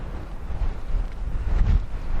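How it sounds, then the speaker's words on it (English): Wind gusting on an open hiking trail near rocky scramble terrain, a steady low rumble of buffeting against the microphone that swells louder toward the end, with no voices. "the wind is picking up quite a bit"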